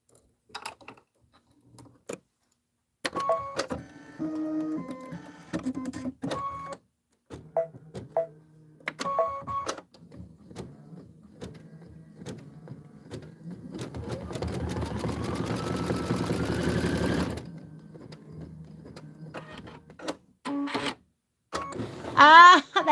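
A sewing machine stitches a Kimberbell quilt block in short stop-start runs, then in a longer sustained whirring run with rising pitch, with beeps and mechanical clicks in between and no talk.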